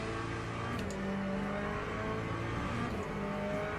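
Ford Mustang race car engine in a racing sim video game, a steady droning whine that rises slightly as it revs, heard alone at moderate level without talk.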